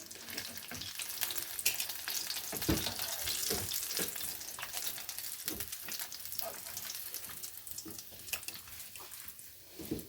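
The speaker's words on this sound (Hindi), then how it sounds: "बाकी रोल्स भी हम इसी तरह फ्राई करेंगे।" Bread rolls frying in hot oil give a steady bubbling sizzle with crisp crackles and occasional stirring or scraping, close but fairly quiet, and no voices.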